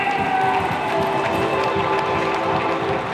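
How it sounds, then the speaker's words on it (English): A crowd at Telford Ice Rink applauds and cheers during a charity ice event, a steady, loud wash of clapping and shouting voices with some children calling out, sustained throughout. "Okay, we can round of applause as we head down the goal for Vicky Archer and Adam Green."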